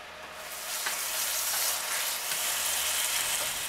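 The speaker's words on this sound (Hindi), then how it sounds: "अब सिर्फ आपने इसको भूनना है फ्राई, जैसे ही ये भून जाएगा ये तैयार हो जाएगा।" Pieces of meat for bhuna gosht fry and are stirred in a hot pan, giving a steady, close, crackling sizzle with occasional scraping as they are turned.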